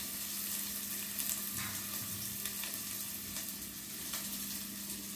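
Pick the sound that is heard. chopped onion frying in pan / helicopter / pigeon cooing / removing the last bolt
chopped onion frying in pan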